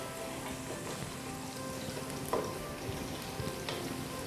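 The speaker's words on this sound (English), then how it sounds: "I'm stirring my onions in the pan because I want them to be golden brown" Onions sizzle steadily in a pan for peas pulao, a constant close hiss of frying with faint scrapes and small clatters as they are stirred, no voices over it.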